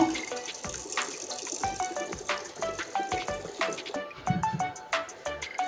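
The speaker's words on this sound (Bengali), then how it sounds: "এবার পরিমাণ মতো জল দিয়ে দেবো সেদ্ধ করার জন্য" Water poured into a pot of matar dal (lentils) for boiling, a close, steady trickle and splash with bright drips and bubbling, moderately quiet, no talk.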